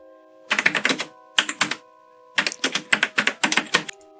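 Bursts of rapid keyboard typing, several quick flurries of clicking keys separated by short pauses, close and clear against a faint steady hum.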